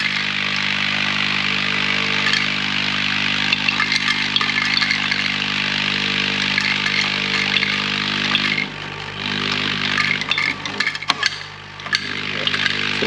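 A tabletop semi-automatic packaging machine for liquids and tablets runs steadily, giving a continuous mechanical hum with a faint hiss and low tonal drone that dips briefly near the end, close and even.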